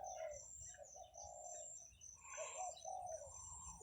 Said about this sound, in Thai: ฟังเสียงแล้วเขาขันเพลินเลย